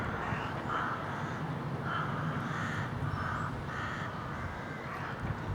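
A group of rooks caws repeatedly at a steady rhythm, moderately distant, against a constant outdoor background hiss near Amberley railway station in the countryside.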